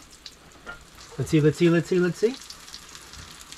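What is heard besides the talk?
flat food frying in boiling oil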